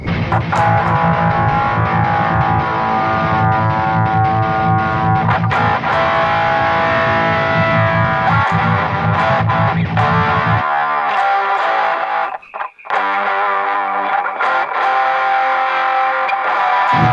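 Electric guitar played through an Octavator octave effect pedal, a thick, distorted, continuous tone with sustained chords that thins out near the end, loud and close with no talking.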